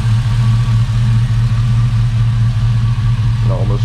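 An LS-swapped bagged Chevrolet C10 truck with Hooker Blackheart LS manifolds, idling loudly up close with a deep, steady, throbbing exhaust rumble that holds evenly throughout.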